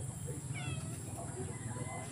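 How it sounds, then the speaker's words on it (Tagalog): A pregnant cat gives a single clear meow close by, rising then falling, while people talk in the background over a steady low hum. "Yung aking pusa dito sa harapan."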